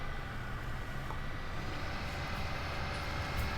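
A 400-horsepower tractor in Farming Simulator 19 straining uphill, its engine a dense, steady roar held at a constant level with no pauses or voices.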